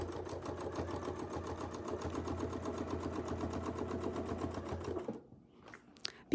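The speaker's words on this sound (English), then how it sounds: "then we'll just go ahead and sew across" Sewing machine stitching across quilt fabric with a Westalee Mini ruler set: a steady, rapid mechanical chatter that runs close and even for about five seconds, then stops, leaving a few faint clicks.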